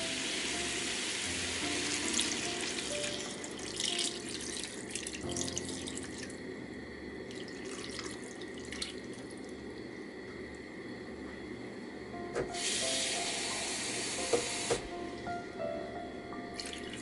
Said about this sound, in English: Now it's time to add